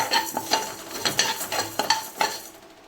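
Masala for fish curry is stirred in a hot pan as it fries, with a ladle scraping and clinking against the metal in a repeated rhythm over a soft sizzle, close and clear.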